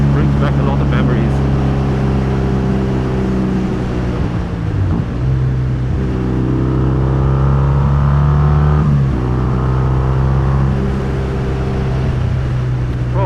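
A Triumph T140V motorcycle rides along a road with a loud, steady engine drone that shifts pitch through gear changes, buffeted by wind, and a voice talks over it.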